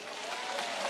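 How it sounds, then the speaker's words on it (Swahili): Audience at a gathering honouring a leader, clapping in a dense, continuous burst of applause from a crowd, brief and fairly loud throughout. "Mpigeni makofi."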